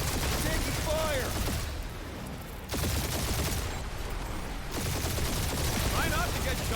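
Rapid bursts of gunfire in the Marvel's Guardians of the Galaxy video game, loud dense volleys that pause briefly and resume, with voices and game music mixed in.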